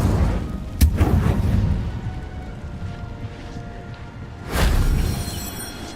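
An Incendio fire spell goes off in the Hogwarts Legacy video game: a sharp blast near the start and a second roaring burst toward the end, both set over a dense, rumbling game background with no talk.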